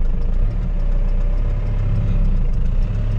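A Ford F350 diesel pickup pulling away uphill in second gear, its engine giving a steady, loud, close low-pitched clatter and drone with an even, rapid pulsing rhythm and no voices over it.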